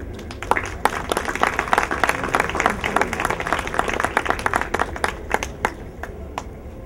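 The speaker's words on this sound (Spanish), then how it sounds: "Aplausos" An audience at a climate change lecture claps steadily for several seconds, many hands producing dense, irregular applause that stays even throughout.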